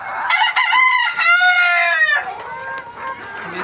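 A white hen gives a string of loud, close, rising and falling squawking calls, then softer clucks trail off toward the end, with no talking.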